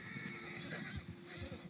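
A horse in a video game whinnies in a short, wavering neigh, faint and close, with low hoof-like thumps beneath.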